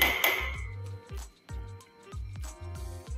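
A spoon stirs basmati jeera rice in a cooking pot, giving a quick series of light metallic clinks and scrapes against the pot at a steady rhythm, close and fairly soft, with no talk.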